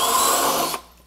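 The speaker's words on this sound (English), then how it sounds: "I like using a little sanding drum in the drill" A drill spins a sanding drum with a loud, rough whir against wood for under a second, then cuts off abruptly into near silence.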